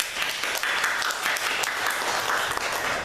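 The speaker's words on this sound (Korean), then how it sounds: "한번 박수를 한번 쳐주십시다" Members of a Korean church congregation applaud together during a sermon, a brief burst of steady, many-handed clapping heard at moderate distance.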